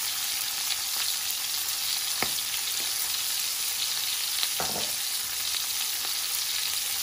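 Prawns fry in a pan with a steady, bright sizzle, broken by a few sharp crackles and pops, heard close with no talking.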